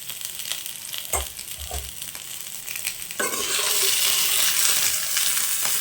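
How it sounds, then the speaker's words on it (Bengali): Snake gourd frying in a pan until lightly reddened. A steady hiss swells sharply about halfway through, with a couple of thuds and clinks from stirring early on. "তোমরা দেখতেই পাচ্ছ চিচিঙ্গাটা অনেকটাই ভাজা হয়ে গেছে, তো বেশি ভাজা চলবে না, এইভাবেই ভেজে নেবো"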